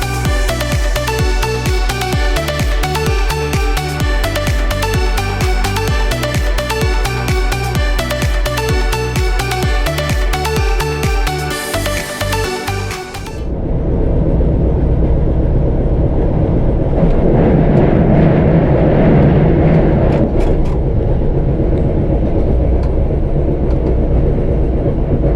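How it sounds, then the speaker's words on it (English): French X76500 diesel railcar running on the line, heard loud and close as a steady engine drone and rolling rumble with rhythmic clatter for the first half, then a broader, noisier roar of the train in motion. "And now we can once again listen to the sound of this very interesting train, which is very common in France"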